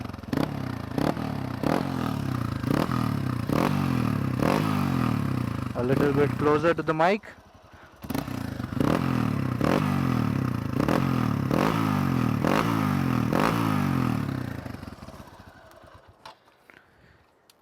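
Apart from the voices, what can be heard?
modified Hero Xpulse 200 motorcycle exhaust revving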